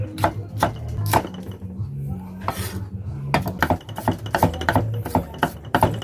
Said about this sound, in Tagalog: Chop lang to guys, chop ko lang to.